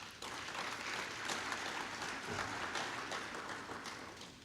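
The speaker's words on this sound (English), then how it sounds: "I'm going to ask you to give them a round of applause" A crowd applauds steadily at a sustainable cities conference, a dense wash of many hands clapping at even loudness throughout, with no voices over it.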